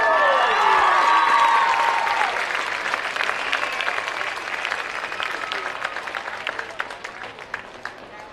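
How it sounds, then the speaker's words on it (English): A stadium crowd at a 2023 high school varsity homecoming football game applauds the newly crowned homecoming queen, loud sustained clapping that opens with a few shrill whistles and gradually thins out. "Let's give all these ladies another round of applause."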